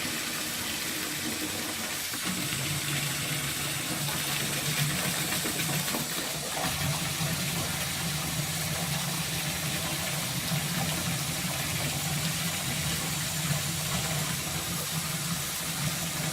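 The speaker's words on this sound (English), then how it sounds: "I'm going to fill up the cockpit drain and stick water in the cockpit too" Water pours into the cockpit and cockpit drain of a sailboat during preparations for Hurricane Ophelia. The rush is continuous, broad and close, holding steady throughout without talk.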